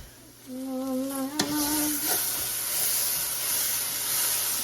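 Food sizzles steadily in a hot pan with a constant frying hiss, joined briefly by a rising tonal squeak and a sharp clatter early on.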